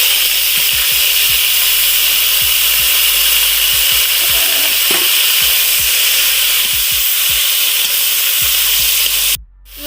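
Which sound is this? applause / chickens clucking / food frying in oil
food frying in oil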